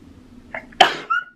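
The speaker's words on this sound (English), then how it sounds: "I'm gonna sneeze." A single close, sharp human sneeze preceded by a short intake of breath, with a faint trailing squeak afterward, in a quiet indoor setting.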